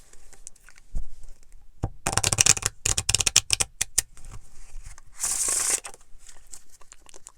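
Slippery playing cards are shuffled by hand, a rapid crisp riffle of flicking clicks followed by a longer sliding burst and a few scattered snaps, close and clear with no talking.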